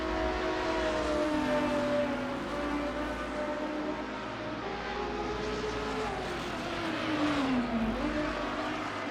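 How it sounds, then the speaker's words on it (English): A loud, continuous engine exhaust drone from a Ford Capri racing car in a racing video game, its pitch sweeping up and down with revs over steady track noise, no talking. "A very loud Capri. Listen to that exhaust."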